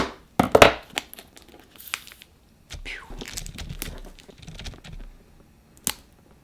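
Small plastic clay packs from a miniature cake craft kit (polymer or air-dry clay) are crinkled and torn open in a sequence of close, sharp crackles and rustles, with short pauses between them.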